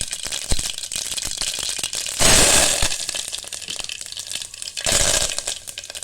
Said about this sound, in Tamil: இப்போ இதில் நம்ம கடுகு போட்டுக்கலாங்க. கடுகு நல்லா பொரிஞ்சிடட்டும்.